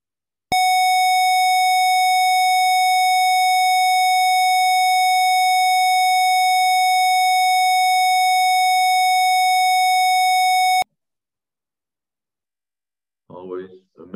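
A steady 741 Hz solfeggio tone plays alone for about ten seconds, loud and unwavering with faint overtones, then cuts off abruptly into silence before a brief voice begins.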